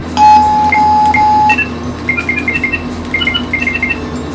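A Samsung Gear S3 Frontier smartwatch rings for an incoming phone call: a steady electronic tone first, then bright, rapid chiming melodic beeps repeating in short bursts, close and clear.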